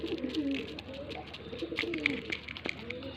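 Pigeons cooing softly at close range while being hand-fed, with repeated low coos and a few brief higher chirps over a faint background, no voices.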